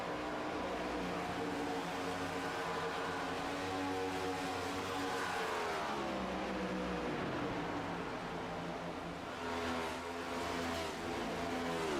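Race cars roar around a track, a continuous loud engine drone with rising and falling pitch as cars pass, sustained throughout without talk.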